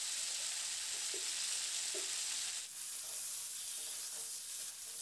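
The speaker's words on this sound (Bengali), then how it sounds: "এবার ফুলকপিটা দিয়ে নাড়াচাড়া করে মিডিয়াম টু হাই ফ্লেমে ফুলকপিটাকে বেশ লালচে রং ধরা পর্যন্ত ভেজে নেব" Cauliflower fries in hot oil in a pan over medium-high flame, giving a steady close sizzle with a couple of soft stirring scrapes, no voices.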